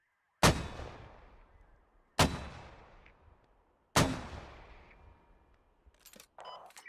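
Three heavy mortar impacts boom in a military video game, each a sharp loud blast with a long decaying rumble, spaced about two seconds apart, followed by faint clicks and a brief noise at the end.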